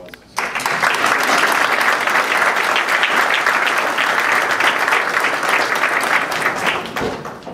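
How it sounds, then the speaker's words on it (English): An audience at a congressman's town hall meeting bursts into sustained applause, loud and dense clapping that starts abruptly, holds steady for several seconds and then tapers off. "You're the one who deserves the applause."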